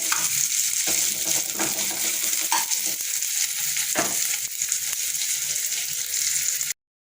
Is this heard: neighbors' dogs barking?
no